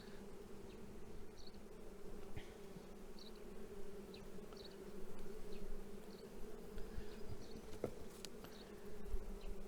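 Honeybees buzz steadily over brood frames in an opened hive in late March, a dense, close drone with a few brief handling knocks and no voices.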